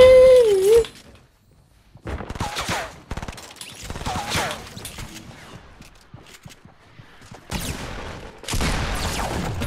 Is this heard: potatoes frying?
no